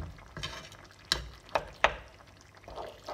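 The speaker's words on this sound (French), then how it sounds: "Avec une fourchette, je fais juste ceci, comme ça, pour mélanger un petit peu le blanc d'œuf." A fork scrapes and taps in a frying pan while mixing egg white for tchakchouka, several sharp metallic clicks over a faint background sizzle, close and quiet.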